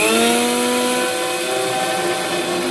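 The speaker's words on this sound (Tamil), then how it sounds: "சுகரை வந்து இப்போ அரைக்கணும்." A mixer grinder runs loud and steady, grinding sugar with a dense, continuous whirring roar that slightly shifts in pitch as it spins, with no voices.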